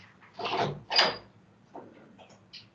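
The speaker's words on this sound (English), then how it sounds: "this door is making a big noise" A door banging during a seminar, two loud knocks close together followed by softer rattles and bumps.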